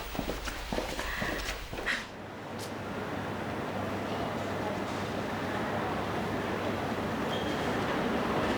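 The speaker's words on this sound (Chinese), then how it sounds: "王薇啊，我不知道地铁有这么多人。" Busy subway station ambience with a steady rumble of a train and a dense wash of crowd noise and footsteps, with a few brief voices near the start.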